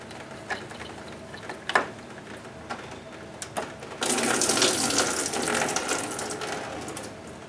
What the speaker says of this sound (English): At least most of it's dripping into my pan.